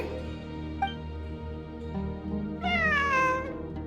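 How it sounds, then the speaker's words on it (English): A cat in the game Genshin Impact gives one clear, wavering meow near the end, heard over a steady ambient music bed. "It really is a cat."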